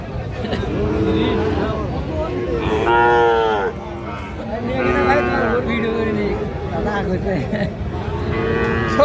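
A Sahiwal bull calf at the Raniganj cattle market bellows in several loud, drawn-out moos with pauses between them, set against a steady backdrop of crowd chatter and market bustle.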